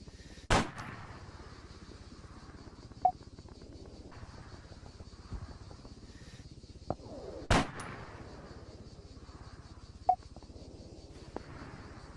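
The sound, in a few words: gunfire from a launcher in video game Arma 3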